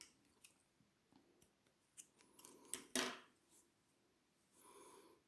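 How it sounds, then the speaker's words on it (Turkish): Scissors snip through crochet yarn while a hexagon blanket motif is worked, one crisp close cut standing out among faint rustling and handling sounds, quiet overall. "Ve ipimi kesiyorum."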